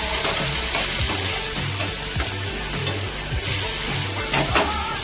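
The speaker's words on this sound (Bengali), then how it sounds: "কড়াই টমেটোটা দিয়ে দেবো, দিয়ে ভালো করে নাড়াবো" Tomato and spices sizzle in a hot wok, a loud steady frying hiss with repeated scraping strokes of a spoon stirring through the mixture.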